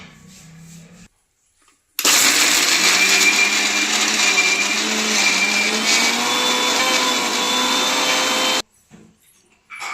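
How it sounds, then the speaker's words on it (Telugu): A kitchen mixer grinder grinds peanuts with chillies, tamarind, cumin, garlic and salt for chutney, a loud steady whirring drone that starts abruptly, runs for about seven seconds, then cuts off. "వీటిని ఇప్పుడు మిక్సీ పట్టుకోవాలి"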